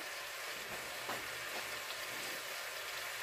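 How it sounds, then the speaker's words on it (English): Steady broadband hiss of chicken frying in a pan, a continuous crackling sizzle with no talking. "my chicken sizzling, it's about time."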